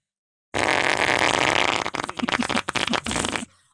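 A person imitates a fart with their mouth: a long buzzing blast followed by a series of short sputtering pops, loud and close.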